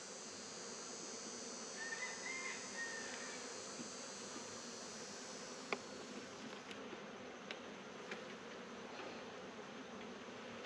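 Honey bees hum steadily around an open hive during an inspection, a continuous even drone with a few faint clicks and taps from handling the frames.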